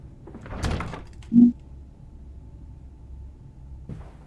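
A springy drawer thumps shut once with a short dull knock in a horror video game, followed by quiet room tone and a faint rustle near the end.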